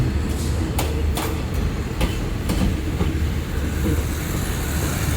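A luxury passenger train with SRT Prestige sleeper cars rumbles steadily past nearby in Thailand, with a low continuous roar and periodic clacks of wheels over rail joints.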